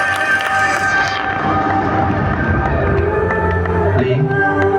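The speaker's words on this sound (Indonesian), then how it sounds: "Kita kasih tepuk tangan dulu untuk teman-teman yang sudah membantu." Crowd at a Chinese New Year show at SeaWorld cheering and clapping, with lively shouts and scattered claps that grow busier toward the end.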